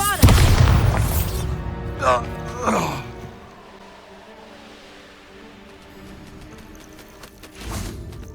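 A Bombarda spell explodes in Hogwarts Legacy with a loud, deep boom at the start, followed by rumbling debris. A second burst comes around two seconds in, and a softer thud near the end, all over a low game ambience.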